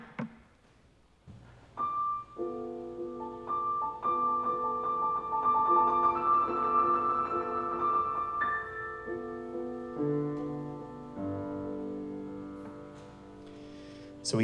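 Grieg's Notturno plays softly on sustained orchestral tones, with high, short melodic figures in the upper line imitating birdsong chirping.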